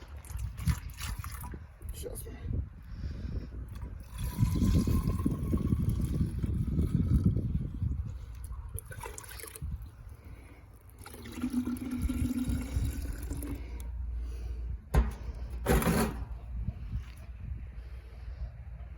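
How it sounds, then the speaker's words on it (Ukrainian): One litre of seed-treatment liquid is poured into a container in bursts, with a gurgling trickle under close, ongoing talk. "І наливаємо один літр."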